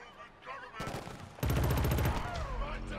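Rapid automatic gunfire in the first-person shooter Killzone: Shadow Fall rattles out in two close, dense bursts, the second longer and louder, with other game sounds underneath.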